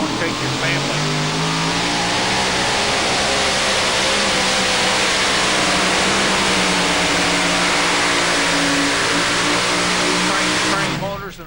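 Modified pulling tractor with crank motors and a stack motor roars at full power during a pull at the 2008 NTPA Championship in Bowling Green, Ohio, a loud, sustained engine howl with layered harmonics lasting the whole stretch and cutting off at the end.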